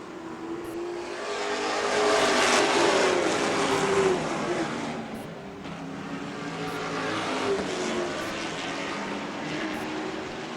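Late model race cars circle a dusty dirt track, their engines swelling loudly as the pack roars past, fading, then building again in a second pass.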